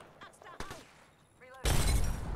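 A grenade explodes in an Apex Legends firefight with a sudden loud burst that holds into a rumbling tail, after a stretch of quieter shots and game noises.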